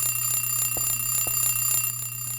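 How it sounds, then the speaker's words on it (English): An alarm clock in the video game Silent Hill 3 rings in a steady pulsing electronic buzz that repeats evenly throughout, loud and alone with no talk. "We turn off the alarm."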